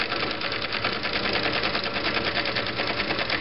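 A Viking Type 21 sewing machine runs steadily at speed, a dense, even whirring hum with fast regular stitching pulses, loud and continuous with no voice.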